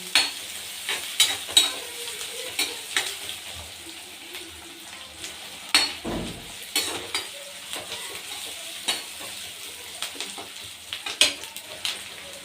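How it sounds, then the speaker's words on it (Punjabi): Chopped onions with green chillies sautéing in a pan for a ghiya-tori vegetable dish, a steady close sizzle broken by frequent scraping stirs of a spoon, with no one talking. "ਇਹਨੂੰ ਅਸੀਂ ਚੰਗੀ ਤਰ੍ਹਾਂ ਭੁੰਨ ਲਵਾਂਗੇ ਪਰ ਪਿਆਜ਼ ਨੂੰ ਗੋਲਡਨ ਬ੍ਰਾਊਨ ਕਰ ਲੈਣਾ ਅਸੀਂ"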